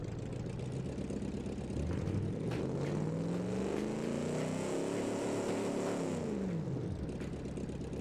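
A tuned car with about 410 lb-ft of torque and a 2-inch exhaust runs in BeamNG, its engine revving up in a smooth rising whine then falling back, steady and fairly loud with no talk.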